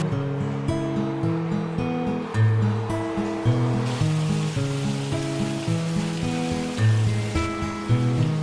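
Wine fermenting vigorously, a dense continuous fizzing and bubbling that hisses steadily and close without pause, with low tonal hum beneath it.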